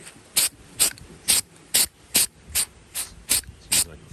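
Spray paint can coating the side of a motorized bicycle in a rusty patina finish: nine short, evenly spaced hissing bursts, close and fairly quiet, with brief pauses between each spray.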